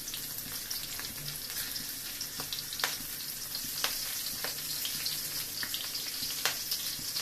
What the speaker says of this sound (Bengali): সেই জন্য আমি সম্বারা দিয়ে দেবো এই তেলেই। এই যে খুব ফুটছে